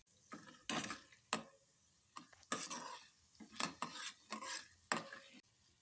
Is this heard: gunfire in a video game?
no